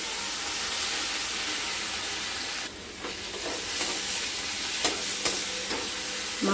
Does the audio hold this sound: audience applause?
no